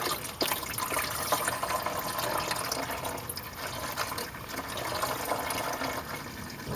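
Engine coolant from a Honda Accord pours and trickles steadily into a drain pan nearby, a continuous liquid splashing with small drips throughout and no speech.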